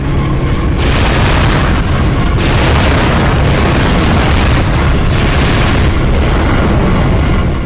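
Constant loud shooting and explosions from the Devil May Cry video game, dense booms and gunfire filling the whole stretch with barely a pause, close and overwhelming.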